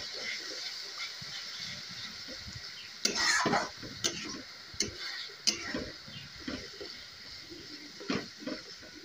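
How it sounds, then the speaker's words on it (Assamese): Onion paste fries in a pan with a soft, constant hiss, broken by sharp clicks and scrapes of a utensil stirring against the metal. "এই পিঁয়াজৰ পেষ্টখিনি মই দি দিছোঁ। এতিয়া আকৌ ফ্ৰাই কৰিম।"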